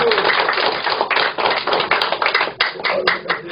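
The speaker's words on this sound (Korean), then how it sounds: "박수로 찬양해 주시기 바랍니다" Audience members clap at a Korean lecture event, a close, loud flurry of many hands striking together in quick, uneven bursts that rises and dips briefly before carrying on.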